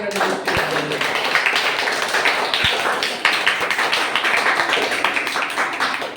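A studio audience at a televised quiz show claps for a contestant's performance, a continuous patter of many hands with a few sharper taps, fairly close, with faint voices underneath.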